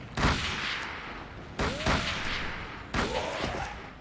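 Three loud gunshots in Call of Cthulhu: Dark Corners of the Earth, fired about a second and a half apart, each a sharp crack with a rumbling tail over a noisy background.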